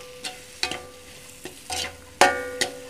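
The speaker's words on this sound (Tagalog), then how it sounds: "Ihalo ito ng hihalo hanggang sa dalawang minuto hanggang maluto na" Butter and tomato paste cooking in a pan under a low sizzle, broken by several distinct scraping stirs of a spoon, the loudest near the end; close and without talk.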